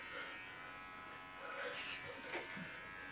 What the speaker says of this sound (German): ich habe noch nie in meinem Leben ein Rasierer in der Hand gehabt